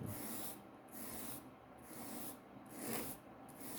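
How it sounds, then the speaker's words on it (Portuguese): Soft rhythmic rubbing strokes, about five back-and-forth passes of sandpaper over paintbrush bristles, faint and close with no voices. "e vai lixando"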